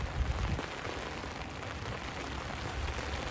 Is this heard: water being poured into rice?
no